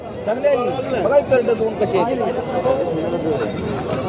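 Goats and sheep bleat repeatedly at a busy livestock market in Sangola, their overlapping calls close and loud amid steady crowd chatter and people talking.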